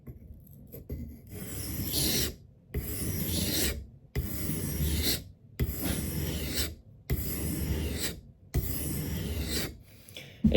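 A knife blade drawn across a sharpening stone at the proper angle, six rasping strokes about a second and a half each with short silent gaps between, loud and close.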